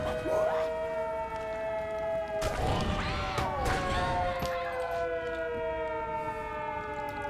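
A wailing civil defense siren in The Secret World online game rises and falls in long steady tones, loud and continuous throughout, with a short burst of crashing noise near the middle.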